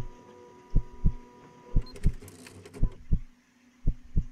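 Paired knocks on a door in the video game One Late Night sound in three or four double-thump sets, muffled and hollow, with a low electronic hum and brief static in between.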